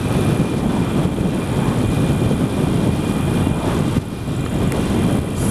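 A Harley-Davidson Iron 883 rumbles steadily on a demo ride, its engine mixed with heavy wind buffeting across the microphone, loud and continuous with one brief dip near the end.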